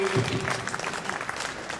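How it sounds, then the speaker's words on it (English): Applause from a literary festival audience at the close of a session on politics, brief and moderately loud, mixed with some speech-like voices in the room. "please give a round of applause to the Lord and Sundeep"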